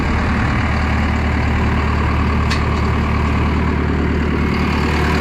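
A Case IH 9250 combine's engine idling, a loud steady low-pitched diesel rumble with a constant drone, heard close up, with one brief sharp hiss partway through.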